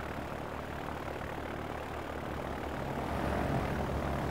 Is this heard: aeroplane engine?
yes